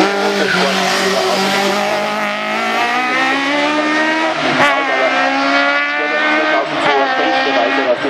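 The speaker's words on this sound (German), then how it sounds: "Norbert Wimmer im BMW 2002 in dieser schwierigen 2-Liter-Klasse." A BMW 2002 touring car in the 2-litre class howls up a hill climb course, its engine note climbing steadily through the gears, loud and close, with brief dips at gear changes.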